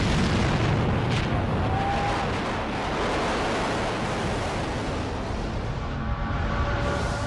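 A documentary depiction of the forming Earth colliding with a Mars-sized body, rendered as a loud, sustained roaring rumble of impact and debris that stays steady and fills the whole stretch.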